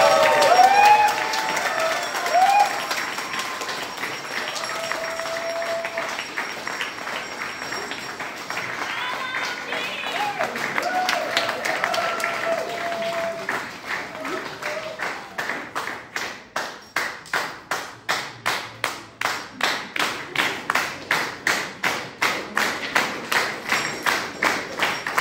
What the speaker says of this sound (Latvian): Skaļi aplausi.